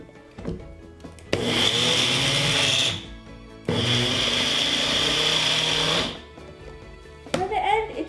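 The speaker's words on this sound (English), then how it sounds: "put a cup of oats into your food processor and pulse it" A mini grinder pulses a cup of oats in two loud, whirring bursts of about two seconds each, with quieter gaps before, between and after.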